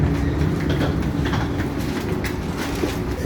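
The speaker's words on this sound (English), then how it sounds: "here comes our train now" A train pulls into a Portland station platform as a steady, loud rumble and rolling roar fills the space, with no voices heard.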